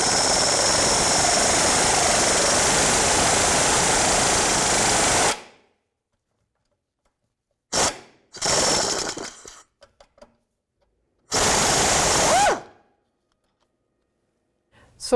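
Ratchet on a 3/8 drive with a 16mm socket working a bolt free on the rear suspension of a 1999-2005 Volkswagen Jetta wagon, a loud sustained rasp for several seconds followed by short separate bursts of clicking.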